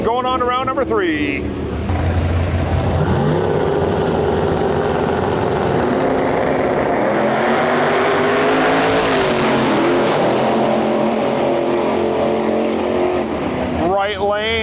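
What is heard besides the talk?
nitrous Mustang drag racing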